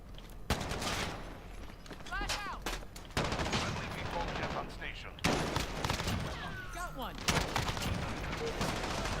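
Gunfire in a Call of Duty match with AUG and M4A1 rifles, heard as several loud, close bursts of automatic fire broken by short pauses, with game effects and players talking over the shooting.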